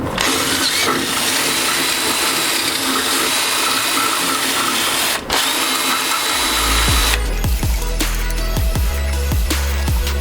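A power tool drills to enlarge a bolt hole for a fuel system install on a Toyota Starlet, a continuous loud grinding whir that briefly stops, then turns into a lower, pulsing drone with rhythmic bursts.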